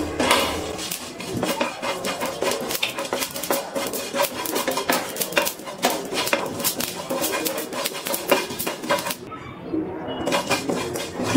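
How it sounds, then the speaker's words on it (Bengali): Whole spices, including black peppercorns, are dry-roasted in a dry pan over a medium gas flame, with a busy run of scraping, rattling and clinking as they are stirred, pausing briefly near the end before resuming. "গ্যাসের ফ্লেমটা মিডিয়ামে রেখে মশলাগুলো ভেজে নিচ্ছি।"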